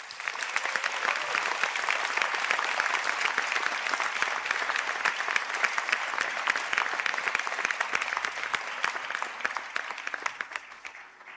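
Sustained applause from an audience for Bachelor of Science nursing and midwifery graduates at a conferring ceremony, a steady, even crackle of many hands in a large hall that tapers off near the end.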